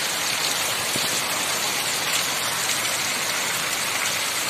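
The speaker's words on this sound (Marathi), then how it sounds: "तुम्हाला सर्वांना दिसावा पाऊस कसा पडतोय आमच्या गावाकडे" Heavy monsoon-season rain pours steadily over a village under tamarind trees, a dense, continuous hiss close at hand with no pauses and no voices.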